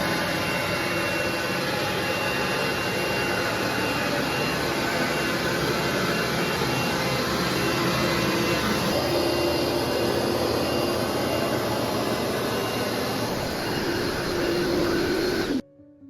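A Rug Doctor carpet cleaning machine runs with a steady, loud, broadband motor and suction roar, constant and close for about fifteen seconds before cutting off abruptly at the end.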